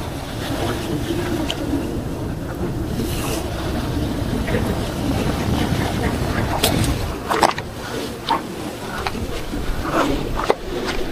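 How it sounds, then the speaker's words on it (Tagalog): Rough sea after a typhoon during storm fishing, with steady broadband wave wash and wind buffeting the microphone, a few sharper splashes or knocks near the end. "Katakot yung alon dito guys."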